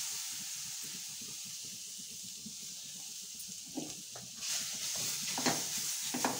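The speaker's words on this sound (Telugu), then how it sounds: "బీట్రూట్ కూడా సిమ్లో పెట్టి వేపుకోవాలి." Beetroot fries in ghee on a low flame with a soft, low hiss. A few stirring scrapes come in and the sizzle swells toward the end, all quiet and close.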